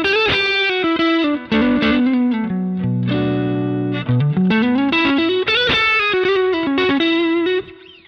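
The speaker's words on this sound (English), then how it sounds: "that gives quite a nice overdrive sound, pretty much completely from the pedal itself" An electric guitar played through a modded King of Tone overdrive pedal into a fairly clean amp gives a loud, close, crunchy driven tone, with single-note lines and sustained chords played continuously and no voices.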